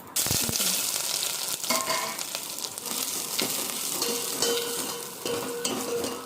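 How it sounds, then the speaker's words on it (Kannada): Mustard seeds crackle and spit in hot oil as onion, curry leaves and green chilli go in for a sambar tempering, a dense close sizzle with scattered sharp pops and some stirring throughout. "ಸಾಸಿವೆ ಒಗ್ಗರಣೆ ಸಾಸಿವೆ ಹಾಕಿ ಚಿಟಪಟ ಕರಿಬೇವು ಮೆಣಸಿನ್ಕಾಯಿ"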